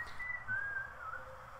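A single sustained whistled note holds steady at moderate level with faint background hiss, no talking over it.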